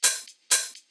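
Alternate tech house hi-hat pattern with two longer, brighter open hits half a second apart, each sizzling out with a small secondary tick before silence, up close with nothing else playing.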